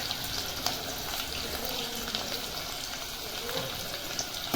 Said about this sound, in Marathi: फोडणीसाठी आपण जो कांदा कापलेला होता तो आपण व्यवस्थित टाकून घेतला त्याच्यामध्ये.